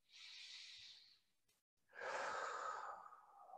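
Slow, deliberate breathing during a mat Pilates session, a soft airy inhale through the nose followed after a short pause by a longer, louder exhale through the mouth, close and alone.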